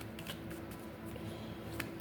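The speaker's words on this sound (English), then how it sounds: "We're going to shuffle the spread." Tarot cards being shuffled, a soft continuous riffling and shuffling rustle, quiet and close, with no talking.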